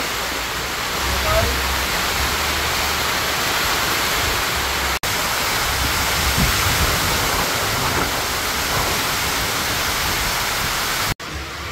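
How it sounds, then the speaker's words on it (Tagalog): Heavy rain pours steadily during Typhoon Tino, a dense, continuous hiss with low rumble that runs almost unbroken from start to end, loud and close, with two brief cutouts. "Wala ng araw kasi grabe ng ulan."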